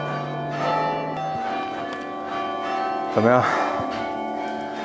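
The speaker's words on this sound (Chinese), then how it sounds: "来得早不如来得巧，正好赶上他敲钟了。" Church bells ring from a tower in Geneva's old town, sustained resonant tones sounding steadily, with a brief spoken voice nearby.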